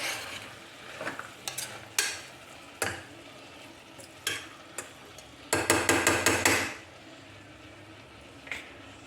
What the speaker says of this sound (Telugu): మొత్తం ఒకసారి కలుపుకుందాము.